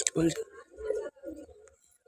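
Teddy and Rampuri pigeons coo in a home loft with low, throaty rolling calls, a few close coos in a row, with a brief higher chirp at the start.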